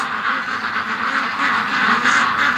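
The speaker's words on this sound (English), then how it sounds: "The wind is driving the ducks absolutely nuts." A group of ducks quacks and chatters continuously in windy weather, a busy overlapping clamour that stays loud and close with a breezy rush beneath it.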